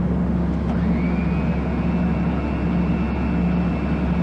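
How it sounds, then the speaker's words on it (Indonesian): An airplane rolls down the runway for takeoff, a loud, continuous engine rumble with a rising whine that settles into a steady high tone. "pesawat mencapai kelajuan 90 meter per sekon, dan pesawat tinggal landas"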